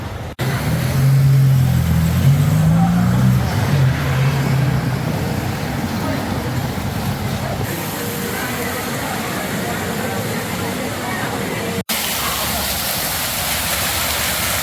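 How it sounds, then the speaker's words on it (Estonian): Steady roadway traffic rolls through a narrow street of terraced houses in a Spanish town, a continuous loud wash of passing cars with a heavier vehicle rumble early on, while people talk over it. "Liiklust jagub."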